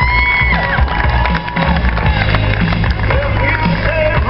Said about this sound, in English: Let's have a nice round of applause for these guys.